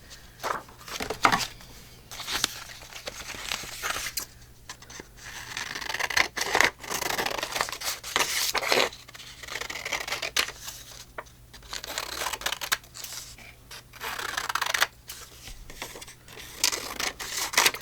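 Scissors snipping through paper scraps for a collage, a steady run of short crisp cuts and rustling paper handling up close, without talk.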